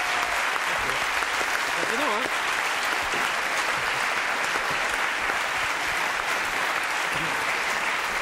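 A studio audience applauds after a falconry demonstration with eagles on a French TV show, a continuous dense clapping throughout while someone speaks briefly over it.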